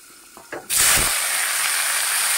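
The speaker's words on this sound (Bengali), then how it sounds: "এখন আমি ভাপিয়ে রাখা সবজিগুলো দিয়ে দেব" Steamed cauliflower and potatoes drop into hot oil tempered with cumin and bay leaf, setting off a loud, sudden hiss that settles into a strong, continuous sizzle after a few quiet clinks.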